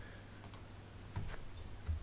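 Faint computer clicks, a few sparse sharp taps at close range while assigning a task on a web page, with no talking.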